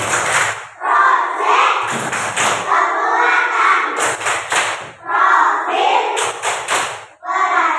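A school class chants the Pancasila student-profile slogan in unison and punctuates it with bursts of sharp, rhythmic group claps at regular intervals, loud and close.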